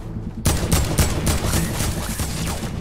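Gunfire from the video game Fortnite, a loud, rapid string of shots and bursts starting abruptly and continuing densely for the rest of the clip, close and dominant with no voices.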